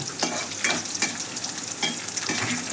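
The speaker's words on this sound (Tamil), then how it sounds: "நல்லா பொரியுது பாருங்கள்." Whole garlic cloves frying in oil in a pan for garlic kuzhambu, a close, bright crackling sizzle with rhythmic scraping surges as they are stirred.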